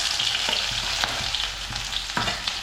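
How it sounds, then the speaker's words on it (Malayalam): Onion tossed into hot oil with popped mustard seeds sizzles loudly and continuously, with rhythmic scraping stir strokes against the pan heard close and alone. "കടുക് പൊട്ടിക്കഴിഞ്ഞ് ഇനി സവാള ഇട്ട് കൊടുക്കാം"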